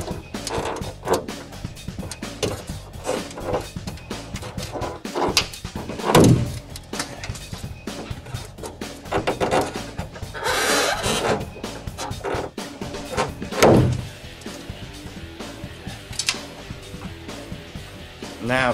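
A Honda CR-V windshield washer pump runs with its hoses disconnected, a steady mechanical whir and spray with clicks and creaks, heard close and fairly loud throughout.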